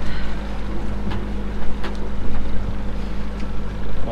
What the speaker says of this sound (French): on est toujours au moteur, on vient de faire une heure de moteur parce que c'était inconfortable